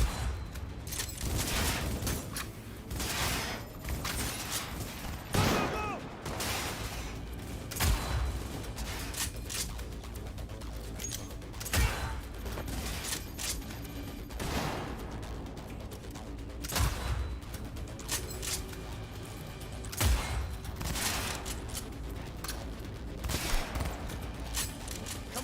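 Sustained gunfire from a Cyberpunk video game firefight, with bursts of automatic shots and sharp single cracks repeating over about 25 seconds, loud and dense against a rumbling low background.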